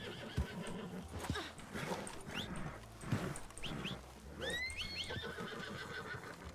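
A horse in the western roleplay video game RedM gives a loud, high whinny over scattered hoof clip-clops and other game ambience, the neigh rising and falling near the end.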